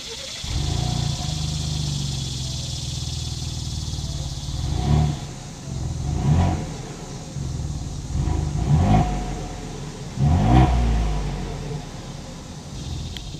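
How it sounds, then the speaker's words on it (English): A 2021 Ford Bronco Wildtrak exhaust idles close by, then revs in four or five sharp throttle blips, each swelling briefly over a steady rumbling idle. "As always, here is that exhaust clip."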